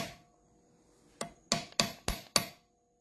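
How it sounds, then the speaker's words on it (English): Heavy hammer striking a steel chasing tool while carving an impression ring die: five sharp metallic blows, the first lighter, then four evenly spaced loud clinks with short ringing decay, close and without talk. "Use a pretty heavy hammer too."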